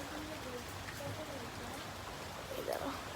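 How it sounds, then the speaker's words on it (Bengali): Light rain falling outdoors, a soft steady patter close by with faint scattered drops and a brief clatter near the end, no voices. "যেহেতু বৃষ্টি হচ্ছে তো এখানে একটু বৃষ্টি এখানে"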